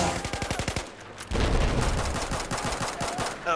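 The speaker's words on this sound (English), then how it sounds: "I shot you in the back with a pistol!" Pistol gunshots in the Battlefield 4 video game, a rapid series of sharp cracks in the opening second, followed by a louder burst of heavy firing and explosive rumble that carries on with further scattered shots.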